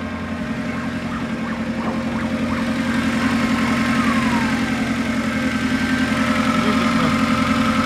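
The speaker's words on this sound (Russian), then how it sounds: "Двигатель четырехцилиндровый, как и обычно, карбюраторный бензин." A four-cylinder carburetted petrol engine on a 1.5-tonne Japanese forklift idles steadily and evenly at close range, a constant low rumble with no revving and no voices.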